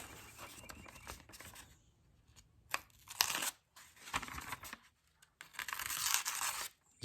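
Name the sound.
sharpened knife slicing a sheet of paper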